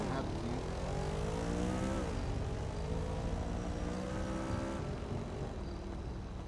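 A jet aircraft in Grand Theft Auto roleplay roars steadily and loudly, its engine tone climbing, dipping and shifting as it moves.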